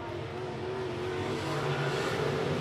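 Late model race cars roar around the I-76 Speedway track, a dense, steady engine drone with rising revs as cars pass, loud and continuous.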